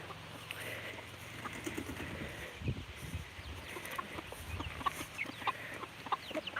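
Backyard farm chickens clucking with scattered higher peeps that fit motherless chicks, a steady bird chatter with a louder cluck burst near the middle.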